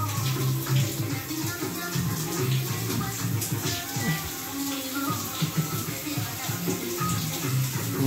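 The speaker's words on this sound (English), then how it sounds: "I'm already taking a shower." Shower water runs steadily in a home bathroom, a close, continuous hiss and splatter with voices talking over it now and then.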